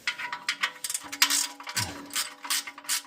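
Torque wrench tightening a bolt on a Toyota Supra, giving a quick series of close, sharp mechanical clicks and ratchet-like ticks in an irregular burst, with no talking.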